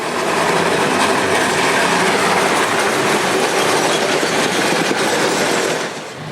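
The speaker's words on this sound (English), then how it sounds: "It's metal on metal wheel, and it's just wonderful." An old Melbourne tram rolling on metal wheels along the rails, a loud steady rumbling roar with clattering and faint squeal, heard close up and easing off at the end.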